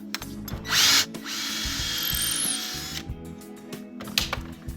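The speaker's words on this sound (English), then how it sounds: "And then drill the hole." A power drill bores a hole for a barn door latch, a short loud whine of about a second followed by a longer steady run of drilling, with a brief second burst near the end.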